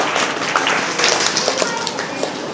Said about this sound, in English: Please welcome them with a huge round of applause.